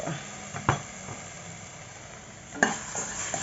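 Vegetarian stir-fry with seasoning powder and oyster sauce in a pan, a soft continuous sizzle broken by two sharp spatula scrapes against the metal.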